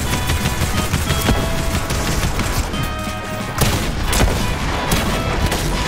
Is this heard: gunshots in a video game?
yes